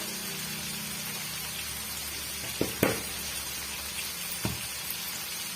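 Tomatoes and potatoes sautéing in oil for potato rice, a continuous crackling sizzle with a few sharp spatula taps against the pan midway.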